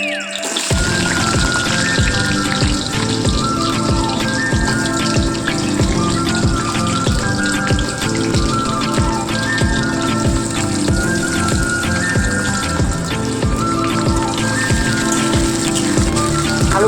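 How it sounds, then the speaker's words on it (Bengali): Potatoes fry in oil with a pinch of salt and turmeric, producing a loud, continuous crackling sizzle with dense spattering pops and a faint steady hum beneath, without any voices. "এবার আমি দিয়ে দেবো আলুটাকে আমরা ভেজে নেব"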